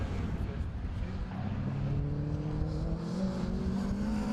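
A rallycross race car, an Opel Kadett or Ford Escort Mark II, races at a distance, its engine note droning and rising through the gears, with a commentator talking over it.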